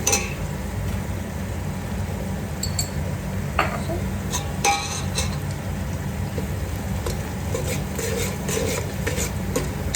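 Turmeric being stirred into egg pulao in a pot: a steady, close scraping and churning runs throughout, with a few light metallic clinks of the spoon against the pot.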